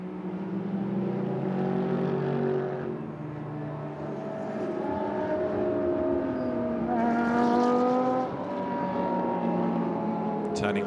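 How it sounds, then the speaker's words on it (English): GT race cars in a Blancpain GT Sports Club race at Spa, running behind the safety car, with several engines droning and rising in pitch as they pass, heard under continuous commentary. "The cars head downhill."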